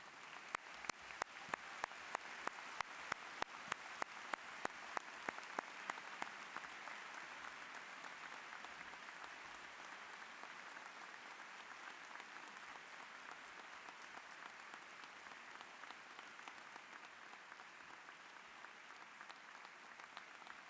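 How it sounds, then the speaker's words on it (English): Audience applause at a high school graduation commencement, a dense sustained wash of many hands clapping that runs steadily throughout, with a few sharper individual claps standing out near the start. "Graduates, please stand and applaud the family members as they cross the stage."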